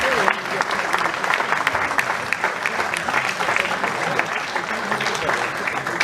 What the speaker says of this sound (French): Allez, encore quelques applaudissements,